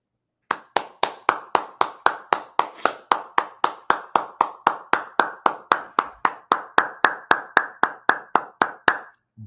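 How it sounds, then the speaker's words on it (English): One person claps alone, close and dry, with about thirty evenly spaced sharp claps in a slow, steady rhythm that ends abruptly. "I'm giving you an applause"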